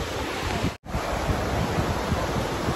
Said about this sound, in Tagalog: Buti hindi malalaki yung alon.